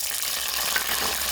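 Small onions fry in hot coconut oil in a pan, giving a steady, close, even sizzle with no voices.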